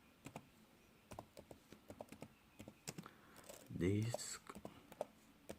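Keystrokes on a computer keyboard while entering disk commands to make a bootable USB drive, a light sparse clatter of single taps, fairly close, mixed with someone talking quietly.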